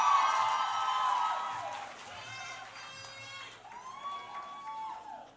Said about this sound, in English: Can we get another round of applause for TST?